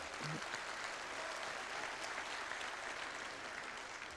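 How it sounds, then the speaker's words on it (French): Faint, distant applause rises from the chamber of the European Parliament for Nicolas Bay, a steady, even patter of clapping that continues for several seconds without breaks. "vous pouvez l'applaudir"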